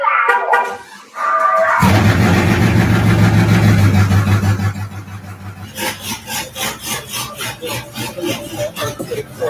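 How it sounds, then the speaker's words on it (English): A 5th generation Chevrolet Camaro styled as Bumblebee cranks and fires up loud and close, settling into a deep, lumpy idle with rhythmic pulses after a brief lead-in of other sounds. "Check out his 5th generation Camaro, aka Bumblebee, and turn up the volume if you want to hear it, because the vehicle starts by his voice"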